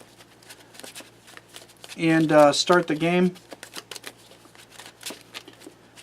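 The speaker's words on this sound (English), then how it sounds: "We're going to shuffle up here real quick" Dragoborne trading cards being shuffled up close in fast, repeated riffles and soft flicks that run throughout, with someone speaking briefly over them.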